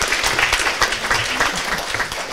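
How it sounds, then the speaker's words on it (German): Audience applause at a talk on fake news and democracy rewards the question round, loud, close and lively clapping with an uneven patter that continues without a break. "darf ich kurz um Applaus bitten, erstmal hier für die sehr schöne Fragerunde"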